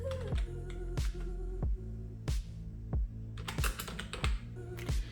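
Keys on a computer keyboard clack in quick, uneven bursts, each press a sharp, close click with a short gap between, over a faint steady hum and no voices.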